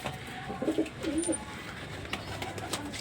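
Soft, low pigeon coos, two short rolling phrases early on, over a steady outdoor background hiss with faint distant noises.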